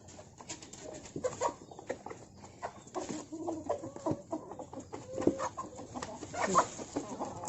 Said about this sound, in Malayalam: ഇതാണ് എൻ്റെ കോഴികൾ